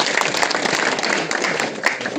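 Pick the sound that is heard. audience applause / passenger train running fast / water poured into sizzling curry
audience applause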